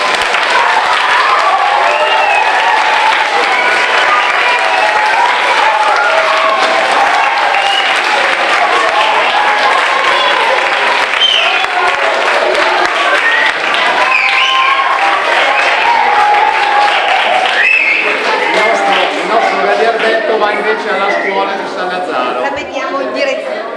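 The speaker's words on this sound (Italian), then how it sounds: "un applausone a Gigi" A large audience breaks into sustained, loud applause, dense clapping mixed with crowd chatter and a few cheers, continuing evenly for over twenty seconds before tapering slightly at the end.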